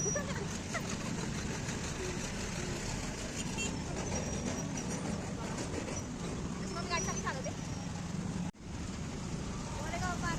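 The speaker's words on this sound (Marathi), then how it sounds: "ट्रैफिक में स्ट्रगल" Road traffic on a busy street during festival time, a constant rumble of engines with scattered horn toots and a dog barking, heard under people's voices and cut by one brief dropout.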